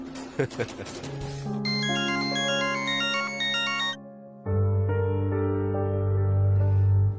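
Ringtone of an incoming phone call in a Tamil TV serial, a loud melodic electronic tune shifting through several phrases, with a short burst of voices at the start.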